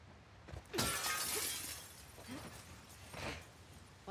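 Glass shatters in The Last of Us Part 2 with a bright, crashing break, followed by scattered tinkling shards falling and a few smaller cracks afterward.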